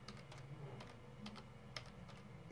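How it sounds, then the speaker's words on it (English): Typing a command on a computer keyboard, a quick run of close, light key clicks in an irregular rhythm over a low background hum. "we're gonna type in fastboot devices."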